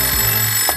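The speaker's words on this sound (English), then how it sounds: "That's the phone." Telephone ringing indoors on a children's show set, a short electronic ring tone with steady tonal lines that sounds close and fairly loud, with no talk over it.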